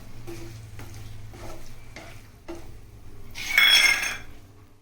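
Boiled egg fry with chilli powder being mixed in a hot pan, rhythmic scraping strokes of a spoon over a low sizzle, followed by a sudden loud burst of bright hissing, all close.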